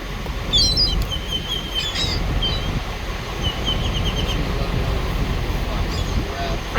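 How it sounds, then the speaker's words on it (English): Seagulls call in short, scattered high cries over a steady outdoor wash of wind or surf, several calls coming in bursts while the birds are fed flaxseed wraps in the morning. "I'm feeding seagulls this morning."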